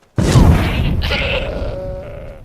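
A goat in the video game Skyrim lets out one loud, close bleat that starts abruptly and holds for about two seconds, its wavering cry trailing into a drawn-out tail.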